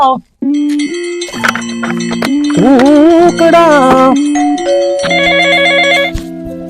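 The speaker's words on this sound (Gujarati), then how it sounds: "કોનો ફોન આવ્યો અત્યારે" A mobile phone rings loudly with an incoming call, its melodic ringtone playing a bright run of chiming tones that swell and shift in pitch for several seconds with no talk over it.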